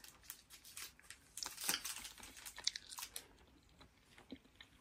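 Soft snack chewed close to the mic, with a run of wet, crunchy bites and mouth noises that peak in the middle and then taper off.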